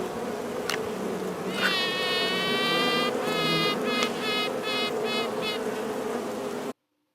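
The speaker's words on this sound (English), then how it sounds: "how these queen bees actually do sing" A queen bee pipes in a run of clear tonal toots, one long note followed by several shorter pulses, loud and close over a steady hum of buzzing bees.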